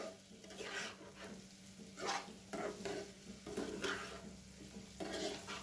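Paneer sweets frying in melted sugar in a pan, heard as a faint sizzle under soft, rhythmic scraping strokes of a spoon stirring every second or so, with no voices.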